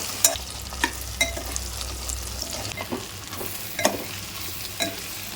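Cumin and onions, with whole spices and green chilies, fry in a pan with a soft sizzle and repeated clattering of a spoon stirring, close and fairly quiet.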